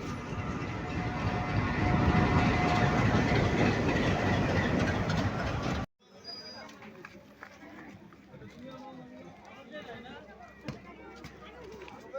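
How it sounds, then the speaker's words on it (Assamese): A train arrives at a railway station with a loud, rumbling roar for about six seconds, then the sound cuts to a quieter, clattering interior with voices talking. "এয়া চাওক ট্ৰেইনটো আহি আছে এতিয়া।"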